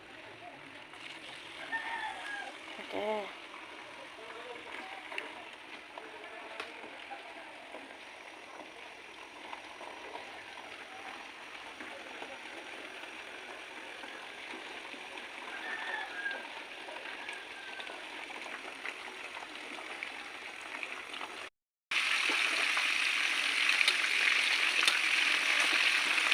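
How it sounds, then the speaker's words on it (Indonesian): Tilapia fillets fry in hot cooking oil for yellow-spiced fried fish, a steady crackling sizzle under a cook's intermittent talk, swelling into a loud, dense hiss near the end. "Ini adalah proses menggoreng ikan."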